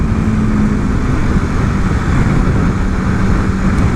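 A 2024 Aprilia RSV4 sport motorcycle in second gear at low revs gives a steady, deep, aggressive engine drone, loud and close, with rushing wind noise around it.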